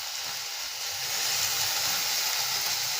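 Potatoes and sweet peas sautéing in a pan for pea kurma give a steady, close sizzling hiss. It swells slightly partway through and goes on without any voices.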